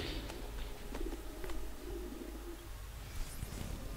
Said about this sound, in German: Hässliche Taube.